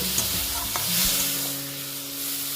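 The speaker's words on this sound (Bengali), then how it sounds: "মশলাটাকে বন্ধুরা আবার একটু নাড়িয়ে নিচ্ছে" Spice masala with a splash of water stirred and fried in a pan for a soybean dalna, a close sizzle with brief scraping strokes and a faint low hum beneath.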